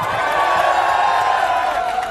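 A large crowd at a Korean election campaign rally in Sinchon cheers and shouts steadily, a loud, dense roar of many voices filling the whole stretch without pause.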